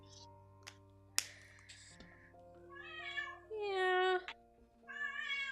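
A cat meows repeatedly nearby, a few drawn-out tonal cries rising and falling, with a short spoken word and a couple of faint clicks in between.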